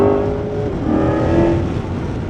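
An electric car driven in its most aggressive track mode, a steady whirring drive note with a rising tonal whine as it accelerates, loud and close, with no speech over it.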